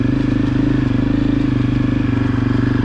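Honda CRF250F dirt bike running steadily while riding, a loud, continuous close-up engine drone with a fast rhythmic chug and faint clatter, no voices.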